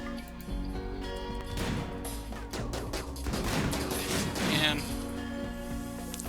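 Bursts of gunfire from a Rimworld firefight crackle in uneven volleys, with sharp impacts and a rolling barrage growing denser midway, close and loud.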